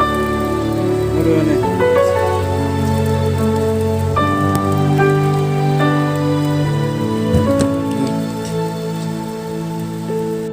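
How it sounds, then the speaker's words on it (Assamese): Heavy rain pattering on surfaces at a hanging bridge over a river in Jairampur, Arunachal Pradesh, with sustained tonal hum and faint background sounds layered over the continuous downpour throughout. "পুৰা বৰষুণ,"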